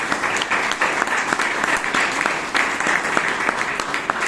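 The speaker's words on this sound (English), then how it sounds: "give all the role takers a big round of applause for conducting such a wonderful meeting" Sustained audience applause at a Toastmasters club meeting in Bangalore, a steady dense wash of many hands clapping at fairly close range throughout, with no talk over it.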